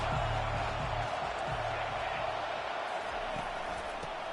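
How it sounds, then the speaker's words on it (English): A dense crowd roars steadily at an American football game in a stadium. The sound stays loud and continuous for the whole stretch, with a low rumble underneath, and a commentator's voice is faintly mixed in. "This crowd trying to make life miserable for this offense."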